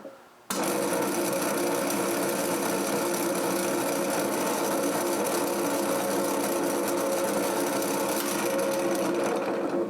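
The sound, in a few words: small electric motor turning a gear reduction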